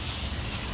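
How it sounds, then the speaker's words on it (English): Brake cleaner sprayed onto a tow truck's transmission to clean it, a steady aerosol hiss running close and fairly even for under a second with no talk. "Spraying it down with some brake cleaner first"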